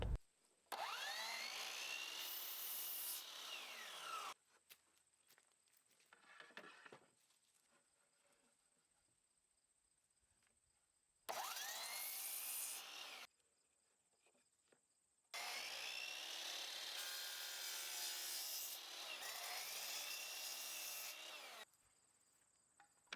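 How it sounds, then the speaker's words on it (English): A power saw whines loudly as it cuts through pallet wood boards in three separate bursts, with quiet pauses and small shuffling noises in between. "Simply push the board and the reference board to touch the blade and cut."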